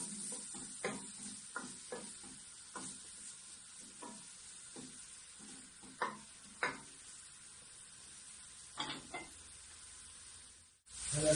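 Finely chopped onion sizzles quietly in a drizzle of olive oil in a pan, a soft steady hiss punctuated by occasional stirring scrapes and small pops, with no talking.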